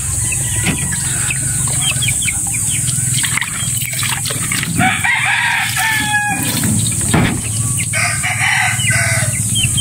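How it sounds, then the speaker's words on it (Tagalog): Chickens and chicks cluck and peep close by while a rooster crows loudly more than once, over a steady background hiss, with no talking. "Lumalapit ang mga sisiw. Ang mga kamanukan."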